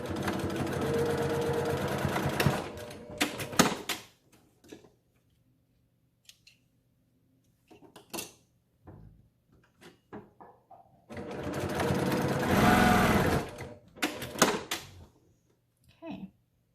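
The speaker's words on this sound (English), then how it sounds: "I'm going to sew here and then down here" A sewing machine stitches a relaxed-structure 3D fabric face mask in two fast whirring bursts, separated by quiet pauses with small clicks and fabric handling, close up.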